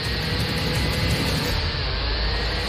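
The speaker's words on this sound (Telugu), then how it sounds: "మిక్సీ ఆన్ చేసి మంచి పని చేశాం" A mixer grinder running in a home kitchen gives a loud, steady motor whir with a high whine, continuous and close for the whole stretch.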